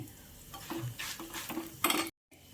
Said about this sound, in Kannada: ಇದು ಚೆನ್ನಾಗಿ ಹುರಿತಾ ಇದೆ